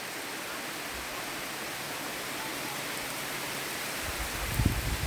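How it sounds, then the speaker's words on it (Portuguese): Steady, soft hiss of rain falling in Pará, Brazil, on dry farmland, continuous and even throughout, with a few low thumps near the end. "Tá precisando, pessoal, dessa chuvinha para molhar aí a terra."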